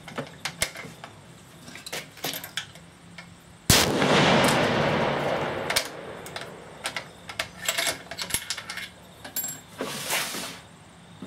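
Ruger rifle chambered in 7-375 fitted with a Terminator T2 muzzle brake fires a single sharp, loud shot, its blast decaying over several seconds amid faint clicks and handling noise outdoors.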